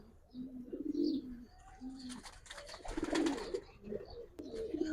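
A giribaz pigeon coos in repeated low, throaty calls, close by, with rustling and scratchy bird noises between the coos.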